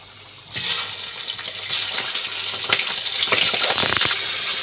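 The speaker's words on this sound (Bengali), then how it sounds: "চিকেনটা আমার দিয়ে দিয়েছি। দেখো, এটাকে আমি একটু ভেজে নেব।" Chicken pieces hit a hot pan of oil where potatoes have already been fried for a Bengali chicken kosha, setting off a loud, steady sizzle that holds throughout, with occasional spoon scrapes.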